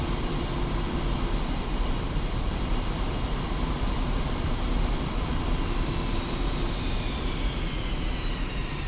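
A jet aircraft taxis in the DCS flight simulator game, a steady loud engine whine and rumble that holds without a break, with faint high tones drifting slowly across the noise.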